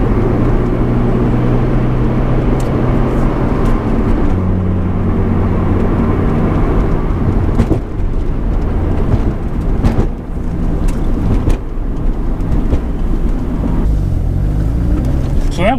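Steady low road rumble fills a car cabin on the move with the windows rolled up, a continuous drone with no wind buffeting and faint bumps and shifts over the full length.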